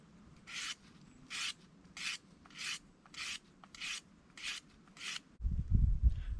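A knife blade is drawn across the fine grit side of a sharpening stone, eight evenly spaced raspy strokes in a steady rhythm, close and fairly quiet, followed by a brief low handling knock at the end.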